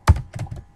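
Quick keystrokes on a computer keyboard during network configuration work, heard as a short close burst of a few soft clicks and thumps.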